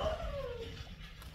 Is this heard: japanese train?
no